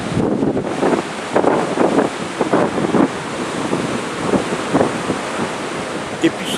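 Wind buffets the microphone outdoors amid water, a rough continuous roar with gusting low thumps and a broad hiss, near and loud throughout.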